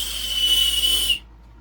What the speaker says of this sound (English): is this emergency whistle